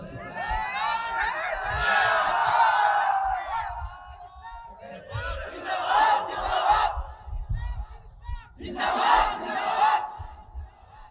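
A large religious gathering chants a slogan in unison, three loud surging waves of massed voices rising and falling, echoing across an open space.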